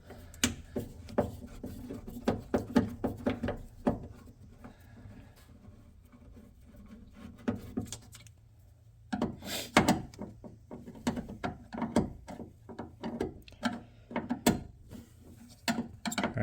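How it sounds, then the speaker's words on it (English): Clicks, clunks and ratcheting scrapes as a speaker is worked free from the door of a 1999-2004 New Edge Ford Mustang, a close run of sharp plastic and metal snaps with a quiet pause midway. "Next, I'm going to take the speaker out."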